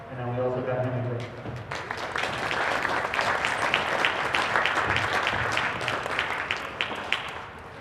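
A gym crowd claps for a coach on high school boys varsity basketball senior night, the applause starting after a brief stretch of talking and then rolling on loud and continuous, with some voices mixed in.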